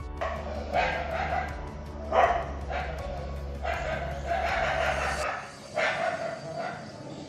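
Dogs bark in a handful of separate loud bursts over a low steady hum, with short pauses between the barks.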